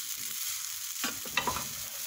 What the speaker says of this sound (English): So you add more rice, then I add more peas and give it a good stir.